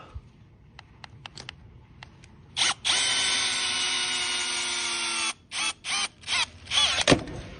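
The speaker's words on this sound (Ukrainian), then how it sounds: "Ого, міцний шуруповерт." A powerful cordless drill driver spins up to drive bolts into plastic mounts. A steady high whine lasts a few seconds, then several quick on-off bursts follow, loud and close.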